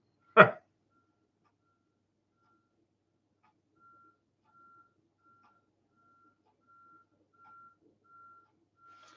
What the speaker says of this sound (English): I got some kind of vehicle out here. I got to go see what it is. I can hear a bunch of beeping.